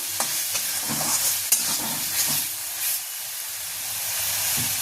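Spice paste for a duck egg curry being stir-fried in oil in a pan, giving a steady close sizzle and hiss broken by a few soft scrapes of the spoon, with no talking.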